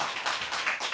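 A crowd claps in a brief, steady patter of hands, fairly soft and close, with no talking over it.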